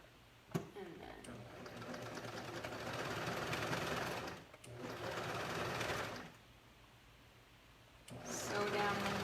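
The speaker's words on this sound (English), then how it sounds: "sew down the hem" Sewing machine stitching down the hem of a pair of leggings in bursts: a steady whirring run, a short pause, another run, a longer stop, then it starts again, with quiet talk between.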